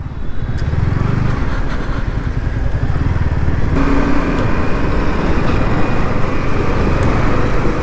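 A scooter rides over a rough, broken road in wet weather, its engine drone and road rumble loud and continuous, with a shift in tone partway through.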